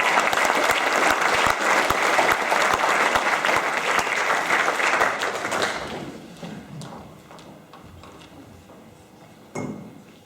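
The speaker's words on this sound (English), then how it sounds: "Will you please put together your hands for our next play?" Audience applause for a cast introduction at a Play In A Day theatre event, a dense, loud burst of clapping that holds steady for several seconds, then thins out and fades to scattered claps.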